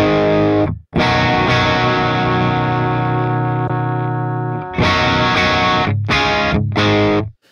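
An electric guitar through an ENGL E656 Steve Morse Signature 100 amp head on its clean channel, knobs at noon, rings out a long sustained chord followed by several short strummed chords, close, loud and full.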